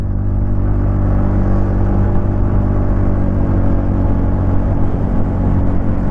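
TVS Ntorq 125 Race XP scooter engine, 2025 model, labours steadily uphill carrying a 90 kg rider, a loud, close, continuous low drone with a constant pitch and no talk over it.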